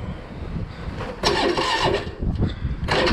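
Polaris Sportsman ATV engine on full choke cranks and catches, then runs with a rough, steady mid-pitched rumble against outdoor wind, with no talking.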